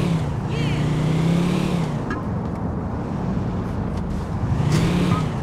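Car engine hum from a vehicle driven in Grand Theft Auto 4, a steady drone with rising and falling pitch as it accelerates, running continuously beneath in-game voices.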